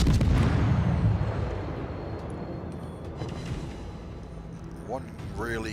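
Heavy naval gunfire and shell impacts in a World War era warship video game battle, with secondary batteries hammering a target; dense rumbling booms fill the opening and fade under continuous voice commentary, with a short whistling tone near the end.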